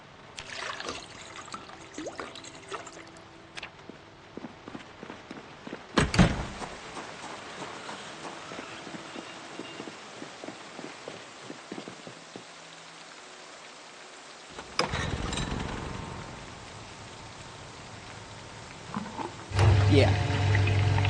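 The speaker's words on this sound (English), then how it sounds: "I can transfer the water into this dispenser bottle, and then reuse this for gas." Water poured from a container into a dispenser bottle in the video game Project Zomboid, a steady splashing trickle that runs for a while, broken by a couple of louder knocks.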